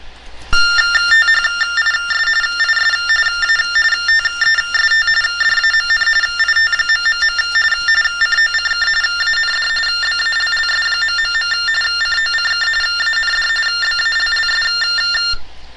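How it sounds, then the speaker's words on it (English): Steady electronic tones from a TTY text-to-tone phone signal on a dial-up line, a loud continuous multi-pitched warble lasting many seconds with no voices. "what the program does is it turns text into tones"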